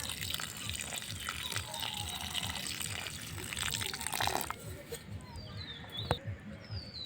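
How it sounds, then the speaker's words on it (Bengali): Water splashes and trickles onto soil around newly planted golden duranta cuttings, a steady close pouring with drips and gurgles throughout, a few birds chirping faintly in the background. "আমি জল দিয়ে দিচ্ছি।"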